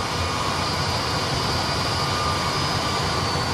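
Steady broadband roar of Airbus A320 jet engines adding thrust to break away for taxi, a constant loud whine and rumble with no talk.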